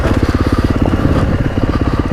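Motorcycle engine on a downhill ride, a close, loud, rapid pulsing putter with an even rhythm and a slight rattle, continuous the whole time.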